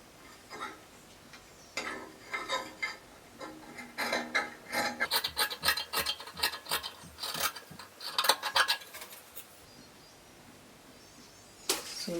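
Scissors snip and rasp through fabric while pieces for a one-shoulder flare dress are cut out, a run of close, quiet crunching cuts in quick bursts with short pauses between.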